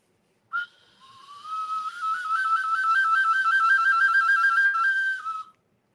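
A carved skull whistle is blown in one long, bright, sustained tone that wavers slightly in pitch, close and fairly loud, after a brief sharp chirp at the start, then cuts off cleanly.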